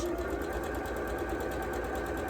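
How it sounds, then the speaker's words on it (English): A sewing machine runs steadily at an even speed, stitching a quarter-inch seam along the diagonal edge of fabric for a quilt block. The motor hums close and continuously throughout, with no talk. "So I'm going to sew a 1/4 inch seam along this diagonal edge"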